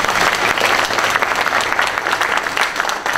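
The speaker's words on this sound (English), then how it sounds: "Let's give her a round of applause." Loud, close applause from a Memorial Day concert audience for the band director, a dense continuous clapping that holds steady throughout.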